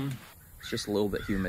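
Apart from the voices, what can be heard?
crow cawing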